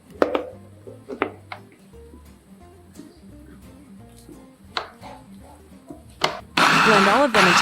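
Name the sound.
blender blending beef, mackerel, rice and broth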